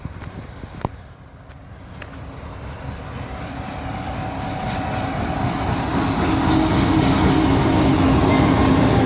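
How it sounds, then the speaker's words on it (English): A train approaches on tracks along the Athabasca River, growing steadily louder, its rumble and rolling wheel noise building to a close, loud pass with no talking. "There's a train coming, so we got off the tracks."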